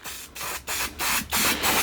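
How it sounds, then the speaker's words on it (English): Aerosol spray can laying clear coat onto garden sculptures in a cluttered workshop: five close, loud hissing bursts, each about a quarter-second long, separated by short pauses. "We're just going to spray these guys down with clear coat."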